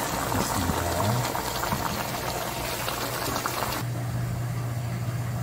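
Spicy braised chicken sauce bubbling at a rolling boil over high heat, a loud dense continuous bubbling hiss with a low steady hum underneath that drops and settles partway through.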